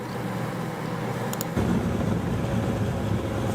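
A Toyota Supra with a 67mm turbo accelerates hard while racing a modded Suzuki Gixxer 750 SRAD motorbike, producing a loud, sustained engine roar that surges and deepens partway through.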